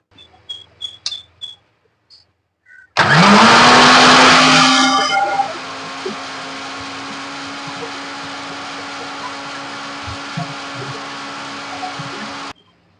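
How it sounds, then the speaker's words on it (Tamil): A mixer grinder blends orange pieces with a little water, starting with a loud surge that settles into a steady high-pitched whir for about ten seconds before cutting off. A few short clicks come before it starts. "இதை இப்போ மிக்சியில ரொம்ப அரைக்க வேண்டாம் ஒரு ரெண்டு ரைட்டா அரைச்சா போதும்"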